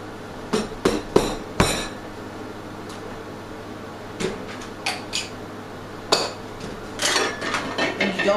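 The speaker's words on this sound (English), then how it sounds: "You're going to take an apple, and you're going to cut your apple up" A knife cuts up an apple on a hard board, giving sharp, close knocks in a quick cluster early on, then sparser single chops and a run of rapid choppy taps toward the end.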